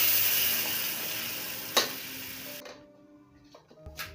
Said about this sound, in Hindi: मसालों को अच्छी तरह हम फ्राई कर लेंगे